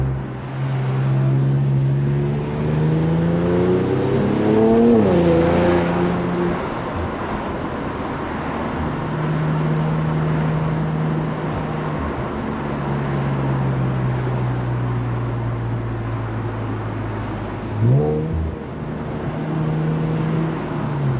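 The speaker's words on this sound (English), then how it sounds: "Downshifting too much, dude." Engine of a lowered Infiniti Q50 Red Sport driven at night, heard from inside the cabin: steady engine drone with rising revs and blips during downshifts, plus road noise throughout.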